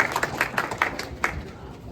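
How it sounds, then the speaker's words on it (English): Audience at a children's books event clapping in a brief, light burst of applause, somewhat distant and fairly quiet. "Please give them a warm round of applause"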